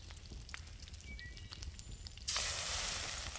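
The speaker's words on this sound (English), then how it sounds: "Let's go ahead and cook up some raw lean meat." Raw lean meat sizzles while cooking in the Enshrouded video game: a quiet ambient bed gives way to a sudden loud, hissing sizzle that holds steadily to the end.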